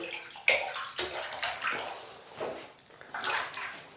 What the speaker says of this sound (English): So we'll create the lather in this hot water.